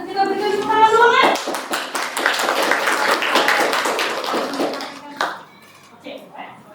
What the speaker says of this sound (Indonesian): Kita berikan tepuk tangan dulu kan?